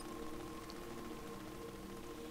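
Steady, even hiss of falling rain in the video game Crysis Wreckage throughout, with a faint low hum underneath and no talking.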